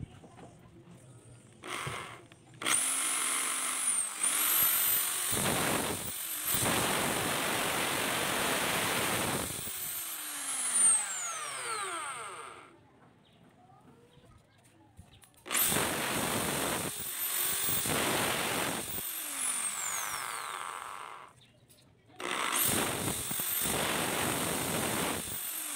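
A pushrod engine carburetor's air/fuel screw needle tip is rubbed on 120-grit sandpaper, giving loud, close rasping hiss in several long bursts separated by short quiet gaps.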